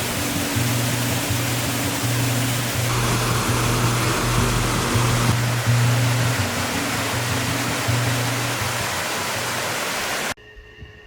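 Talofofo Falls in Guam roars as a loud, continuous broadband rush of falling water, heard close and alone, before cutting off near the end.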